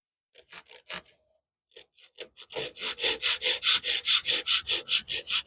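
A hand saw cuts wood with light pressure, a few tentative strokes followed by a steady run of about fourteen rhythmic rasping back-and-forth strokes, close and clear.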